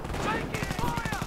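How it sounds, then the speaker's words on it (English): Rapid auto-cannon bursts from an armoured car in a World War II strategy game, firing on British troops. Sharp repeated reports come in a quick rhythm over battle noise, with a commentator speaking over them. "Blasting British troops with auto-cannon rounds"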